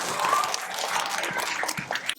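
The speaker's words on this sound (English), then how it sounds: "Give them a big round of applause." Applause from the audience at a school reading event, a dense, steady wash of many hands clapping at close range, continuing for the whole stretch with a few louder slaps standing out.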